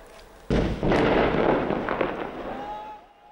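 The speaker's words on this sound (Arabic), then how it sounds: "هي جاهزة للتفجير تفجير النفق" A demolition charge blows up a tunnel dug beneath buildings in Aleppo, with a sudden sharp blast followed by a second deep boom and a long rumbling roar that slowly fades.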